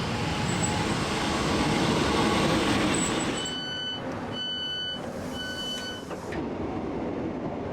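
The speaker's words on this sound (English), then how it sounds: "the train is due any minute now" A train pulls into Accrington station on the Calder Valley Line with a broad rumbling roar. As it slows, a series of clear, repeated high warning tones sound through the quieter platform noise.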